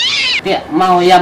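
A voice imitates a cat meowing in a comedy sketch, drawn-out nasal meows loud and close with a short break, mixed with brief spoken words.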